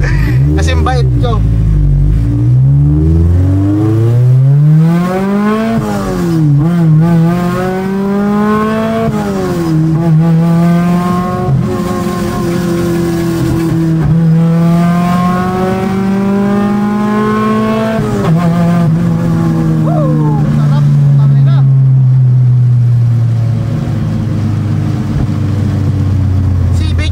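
A K-swapped Honda EG hatchback's engine revs hard through repeated climbing pulls and drops in pitch, loud and close and sustained, with people talking over it.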